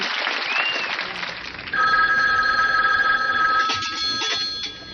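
A cordless telephone rings with a bright, electronic warble that starts softly and then becomes a steady, louder trilling tone, alone without voices.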